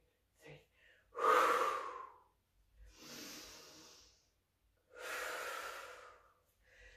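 Three forceful exhaled breaths during a core exercise, each a rushing puff lasting about a second with short gaps between, close and fairly quiet, plus a small breathy sound before the first.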